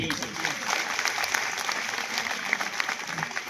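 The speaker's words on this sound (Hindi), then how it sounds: "जोरदार तालियां।" A school audience at a government school's annual cultural function claps loudly. The applause is a dense, even patter of many hands, with a few sharper individual claps standing out, sustained throughout.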